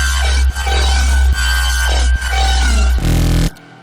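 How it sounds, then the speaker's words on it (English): A gnarly growl bass stacked onto synth bass layers in a track plays as a loud, dense, sustained roar with a few brief rhythmic dips. It stops abruptly near the end, and no voices sound over it. "Let's get our growl in there too, even though it's pretty gnarly sounding."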